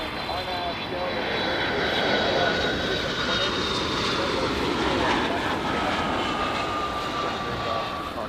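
A Boeing 757-200 arriving from Boston lands at LAX, a steady loud roar of jet engines close by that holds throughout, while a voice talks over it.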